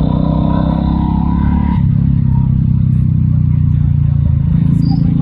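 A Royal Enfield Classic 350 motorcycle rumbles steadily through the whole stretch, a loud low engine drone with a slight shift in tone partway, as if riding along a road.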